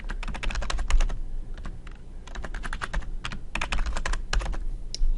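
A new password is typed on a computer keyboard in quick, irregular bursts of close, crisp key clicks with brief pauses between runs, and nobody speaks.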